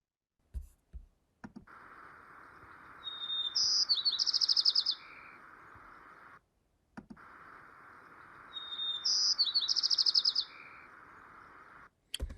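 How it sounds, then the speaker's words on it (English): Recorded birdsong plays twice in a row, each pass a sustained hiss-like background broken by a bright, rapid trill of chirps, with short clicks between the passes. "understand the bird songs you're hearing"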